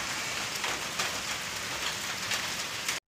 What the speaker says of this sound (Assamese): মানে পুৰা হেমেকা বতৰ আৰু পুৰা বৰষুণ পৰিয়ে আছে